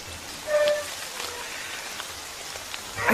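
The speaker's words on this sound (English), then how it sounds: "This is supposed to be the dry season, and it's turned out to be the rainiest of rainy seasons" Rain falls steadily during the dry season in jaguar country, a dense broadband patter with scattered drop hits, moderately loud and continuous with no voices.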